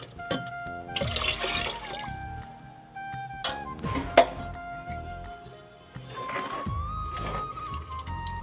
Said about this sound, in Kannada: ಜಾರ್ ತೊಳೆದು ನೀರೇ ಹಾಕ್ತಾ ಇದ್ದೀನಿ ಇದಕ್ಕೆ